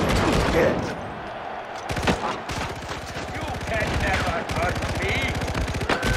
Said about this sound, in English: All I did, I just got a big ass fucking minigun.